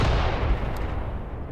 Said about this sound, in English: Ah, the incendiary is firing.